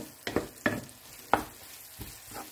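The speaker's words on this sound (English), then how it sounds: "In a heated pan with cooking oil, sauté the garlic and onion. Continue of stirring until the aroma comes out." Garlic and onion sauté in cooking oil in a heated pan, with soft frying noise broken by a few distinct stirring scrapes and clatters spaced through the short stretch, close and moderate in level.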